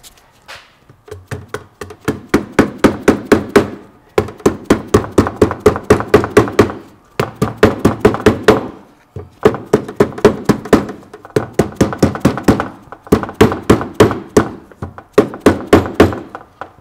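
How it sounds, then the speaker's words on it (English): A hammer taps a part into a Land Cruiser split-case transfer case during a rebuild, making rapid runs of sharp, close metallic knocks in bursts of about a dozen, with brief pauses between each series. "We'll just tap that in until it's even all the way around."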